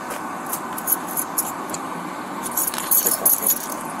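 Car keys jangle and clink in small, irregular bursts at a roadside beside traffic, over a steady wash of background noise with no talking.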